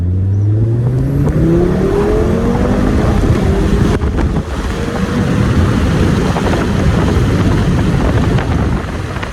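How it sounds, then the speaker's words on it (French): An Audi RS3 with a Stage 1 tune and 420 hp pulls hard out of a roundabout, its engine note rising through the revs under heavy wind buffeting, loud and close for several seconds. "Hop, petite accélération sortie de rond-point."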